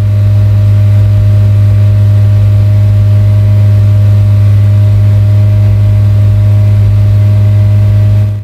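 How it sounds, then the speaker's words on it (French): A Renault Clio 3 RS held at a steady 3000 rpm through a newly fitted GT Performance stainless exhaust, giving a loud, close, unbroken drone with a strong low hum and no voices. "voilà un peu ce que ça donne une fois fini de monter cette ligne GT Performance Inox"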